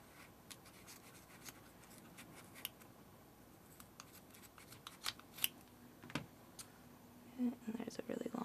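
Scissors snip yarn wedged between two pieces of cardboard while making a crocheted fur hat; a few soft, close cuts and scrapes over quiet room tone, with a sharper cluster of snips near the end.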